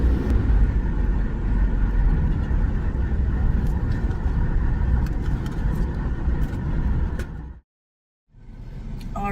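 Steady, loud rumble of a car driving on the road in Canada, continuous road and engine noise that cuts out abruptly near the end before resuming.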